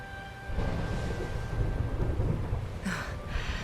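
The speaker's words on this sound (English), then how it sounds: "Would you look at it thundering away out there?" Thunderstorm from the video game Dragon Quest XI, with a low rolling rumble of thunder building after a quiet start over steady rain, plus a brighter crackle near the end, loud and continuous with no talking.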